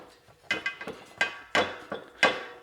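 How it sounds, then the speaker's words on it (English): An end cap is worked off a sealed bicycle wheel hub on a Stan's wheel, giving several sharp metallic clicks and taps in an uneven rhythm, close and clear with no talking. "we're going to remove this end cap."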